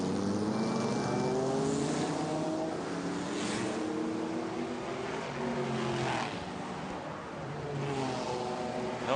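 A Shelby Mustang race car runs during qualifying at a racetrack, its engine droning steadily at a distance with rising and falling pitch as it moves around the circuit.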